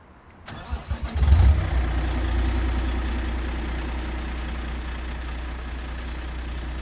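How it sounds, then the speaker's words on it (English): A large truck engine in a video game turns over and catches, then settles into a loud, steady low rumble that holds without pause. "You guys will hear the engine is much louder."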